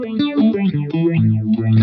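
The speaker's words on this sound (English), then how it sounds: "So there you can hear things really ramp up in terms of the phasing." Electric guitar played through a JHS 3 Series phaser with the feedback raised, producing loud, distorted notes with intense sweeping phase swirls, close and alone.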